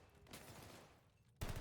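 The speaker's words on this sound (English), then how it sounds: "Lots of gunfire coming out." Call of Duty gunfire during a collegiate esports match, a dense spray of shots that runs steadily then bursts louder near the end.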